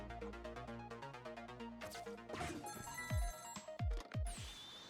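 A telephone rings in Ghost Trick: Phantom Detective, a game chiptune-style trill of rapid repeated bell tones heard alone and fairly loud, joined toward the end by a few sharp descending electronic blips.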